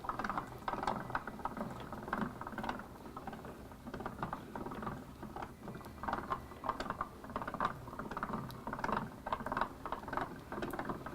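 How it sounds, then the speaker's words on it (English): Hand-cranked die cutter from a sewing and vacuum shop, its handle turning to cut fabric into strips, giving soft, quiet, close ratcheting clicks and mechanical patter in an irregular steady rhythm. "you just insert that and turn the handle here"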